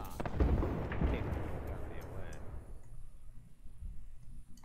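Loud booming missile explosions from a shooter video game, heavy rumbling blasts that crowd together early and then fade into a quieter low rumble.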